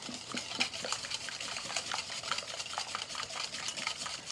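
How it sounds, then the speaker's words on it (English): A whisk beats dark brown sugar into pumpkin pie filling in a bowl, giving a fast, steady rhythmic scraping and clicking against the sides, close and fairly quiet with no talk. "So whisk that."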